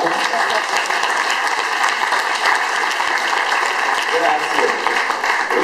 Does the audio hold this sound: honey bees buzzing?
no